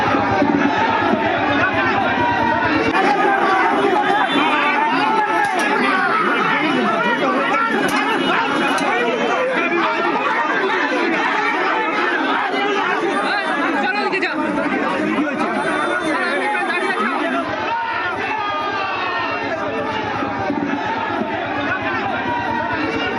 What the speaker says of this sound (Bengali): উত্তরে বামুনগাছিতে স্লোগান যুদ্ধ, বিজেপির মিছিল ঘিরে উত্তেজনা, তৃণমূল বিজেপির পাল্টা স্লোগান